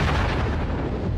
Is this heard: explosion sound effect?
yes